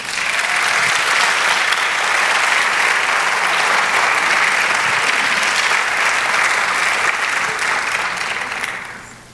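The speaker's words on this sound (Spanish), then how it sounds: "Dale un aplauso al Señor." A church congregation gives a sustained round of applause, a steady even roar of many hands clapping that fades slightly at the close, with no voices over it.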